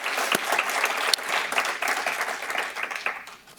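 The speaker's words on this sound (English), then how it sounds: "let's give them a big round of applause" Morning community gathering in Truckee: a crowd applauds students, steady dense clapping at moderate loudness with a few sharper individual claps standing out, fading slightly toward the end, no talking over it.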